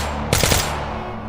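A Victus gun fires in a video game: a short burst of about four rapid, loud shots over steady background game ambience, then the ambience carries on alone.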